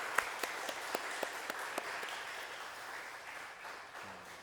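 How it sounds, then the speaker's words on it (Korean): A church congregation claps during a Sunday worship service, a broad sustained applause with a few sharp individual claps near the start, fading slightly toward the end. "우리 다 자리에서 일어나서 박수할까요?"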